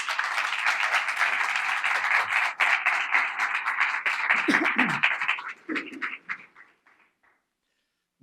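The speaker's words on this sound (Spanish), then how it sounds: "ahora sí, lo quiero recibir a Mario con un gran aplauso y bienvenido a la Universidad del Este." An audience at a university lecture applauds to welcome the speaker, with strong steady clapping that swells and then tapers off into scattered claps before fading to silence, and a few low voices near the end.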